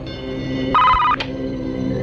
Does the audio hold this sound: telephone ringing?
yes